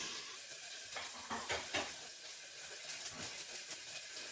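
Five vegetables cooking without oil in a Saladmaster pan, a faint steady steamy hiss with a few soft clinks and short stirring scrapes in two small clusters, quiet and close, no voices.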